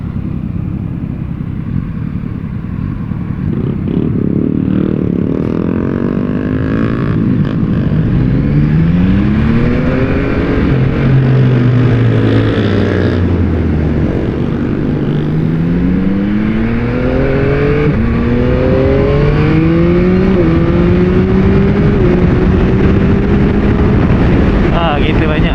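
A 2021 Yamaha MT-09 rides loudly with wind rushing past, its engine pitch climbing and dropping through gear changes with quick automatic throttle blips on downshifts.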